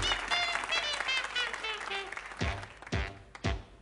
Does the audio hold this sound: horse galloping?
no